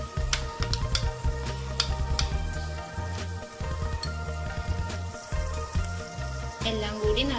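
A spoon stirs and scrapes steadily through kadai chicken with chili paste in a sizzling pan, making rhythmic wet clatters over a constant frying hiss.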